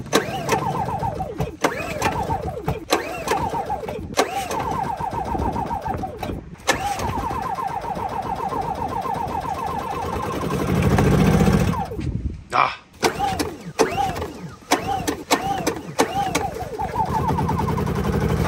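An EcoFlow smart generator with no choke is pull-started, catching and running with an uneven rattling putter before sputtering and cutting out, followed by more pulls; a person talks over parts of it.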